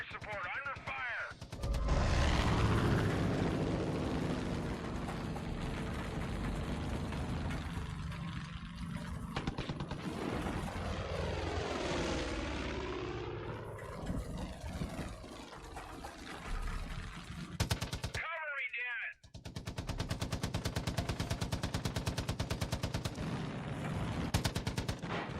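Aircraft engine drone and machine gun fire during an air support battle in the video game Far Cry 5 form a loud, continuous wash of engine noise and rapid gunfire, broken by a sudden short silence before the firing resumes.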